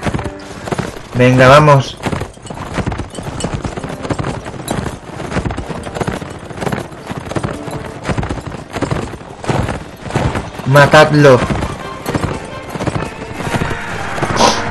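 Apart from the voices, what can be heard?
horses galloping in video game Mount and Blade Warband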